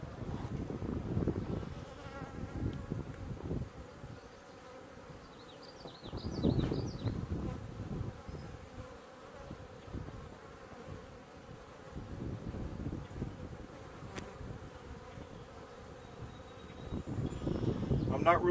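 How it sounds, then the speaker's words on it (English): A low, steady buzzing of a small honeybee swarm being placed into a hive drones on, swelling and fading, up close with occasional louder passes near the ear. "there's quite a few bees in the bottom there."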